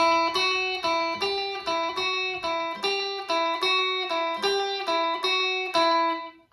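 Bright electric guitar rockabilly riff in A of short repeated plucked notes in a steady, bouncy rhythm, played alone with clear ringing overtones.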